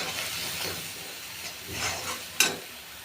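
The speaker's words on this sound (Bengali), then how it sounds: "এখন মশলাকে কষিয়ে নেব।" Spice masala of turmeric, chilli powder and ground cumin-coriander frying in oil in a pan for tilapia fish kalia, a steady close hiss and sizzle with soft stirring scrapes and one sharp clink.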